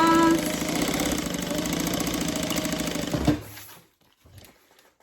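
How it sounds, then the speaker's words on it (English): A sewing machine back-stitches across a bag with a fast, close mechanical chatter that runs steadily for about three seconds, then stops abruptly, leaving near silence. "Bring your needle down, back stitch, all the way across."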